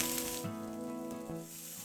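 Salmon searing in a pan, giving a steady close sizzle with a faint hiss that continues throughout, alone and without talk, beneath a soft tonal background.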